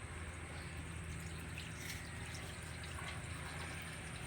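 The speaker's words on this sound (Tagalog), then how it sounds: "lalagyan ngayon natin ng Tubig." Mineral water pours into a cooking pot in a continuous, fairly quiet rushing stream with splashy texture, steady throughout with no talking.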